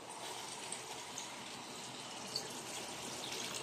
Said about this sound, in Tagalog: At maglagay po tayo ng tubig.